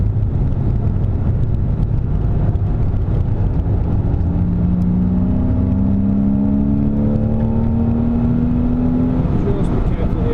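Inside a Renault Clio on the Silverstone circuit, the engine drones then pulls up in a long rising whine as the car accelerates, loud and steady over heavy road and wind noise, with an instructor speaking throughout.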